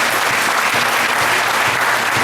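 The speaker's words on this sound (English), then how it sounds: "I want you to give yourself a round of applause for being here." A crowd at a town hall meeting in Brooklyn claps loudly and continuously, forming a thick, unbroken wash of applause from start to finish.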